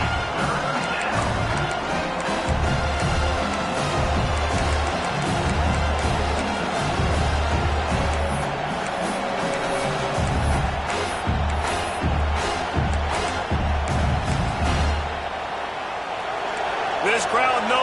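A stadium crowd roars steadily in a college football video game, Washington against Wisconsin, a dense sustained wash of cheering with bursts and thumps, while commentators talk over it.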